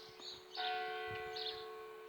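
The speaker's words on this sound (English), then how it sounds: "The sound of the church bells." Bells of Gulval Church ring with a sustained metallic tone and lingering overtones, heard outdoors at moderate distance, soft with faint ambient noise.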